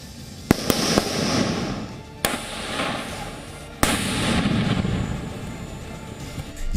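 Hand grenade explosions at an Indian Army regimental training centre: sharp, loud blasts at irregular intervals, each followed by a rumbling, noisy wash, with no talking.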